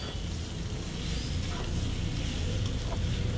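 Bitter gourd, karola, sizzles softly in a frying pan with a continuous low crackle and a few faint stirring scrapes, heard alone with no talking.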